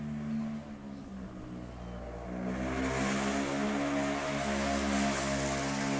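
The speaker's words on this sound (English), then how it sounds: "That is an awfully loud car." A loud car drives past outside a house, its engine rumbling up from a distant drone to a strong, steady roar that holds near the end.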